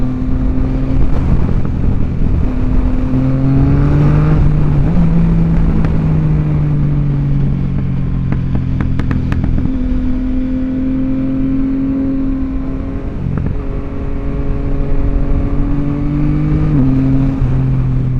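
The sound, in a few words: Yamaha XSR900 motorcycle engine accelerating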